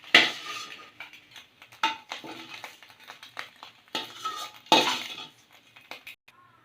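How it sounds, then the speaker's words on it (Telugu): Metal utensils clink and scrape against a frying pan as golden fried food is lifted out during egg fried rice cooking, several sharp close knocks with quieter stirring scrapes between them. "ఇలా గోల్డ్ కలర్ వచ్చేంత వరకు వేయించుకొని వేగిన తర్వాత పక్కకు తీసి పెట్టాలి."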